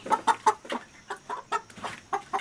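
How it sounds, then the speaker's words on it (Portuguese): Several backyard chickens clucking close by, a rapid run of short rhythmic clucks repeating steadily, loud and clear with no talk. "Olha como estão essas galinhas."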